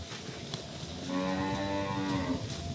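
A calf moos once in a long, drawn-out call on a farm, fairly loud and close, with rustling in the background.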